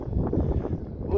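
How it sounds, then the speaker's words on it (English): Strong wind buffets the microphone outdoors during an RC Boeing 787 model plane flight, a loud, low, continuous rumble that gusts unevenly across the short clip. "Whoa, strong wind."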